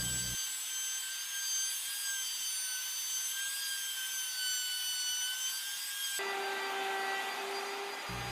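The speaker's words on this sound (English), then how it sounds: "I route a small chamfer in the bottom of the fence" A router cuts a small chamfer along the bottom of a wooden fence on a table saw sled, making a steady, loud, high whine that shifts to a lower pitch near the end.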